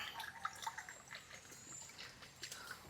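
Water trickles and pours into a glass in a home setting, a soft, faint running stream with small splashy drips, heard alone without talk.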